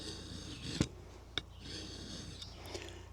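A timber framing chisel is sharpened with a few soft rasping strokes on a stone, quiet and close, with a couple of light taps between the strokes.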